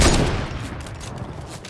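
Close, rapid bursts of gunfire in the video game Fortnite, opening loud and tapering slightly over under two seconds, with no talk over the shots.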